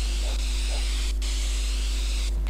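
Spray painting a logo in the video game Drug Dealer Simulator, a steady close hiss of spray paint lasting a couple of seconds with brief breaks, alone without talking.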